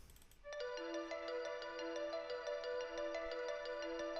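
A bright synth arpeggio melody from an electronic track repeats in a quick, steady run of bell-like notes, loud and alone after a brief faint start.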